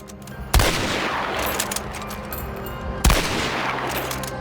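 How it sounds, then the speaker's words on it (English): Two sharp gunshots from the video game Hunt: Showdown, spaced a few seconds apart. Each lands with a hard crack and then a long, rolling echo that decays across the distance. "adding true speed of sound and a gunshot ecosystem for a more authentic depiction of gunfire and explosions over longer distances"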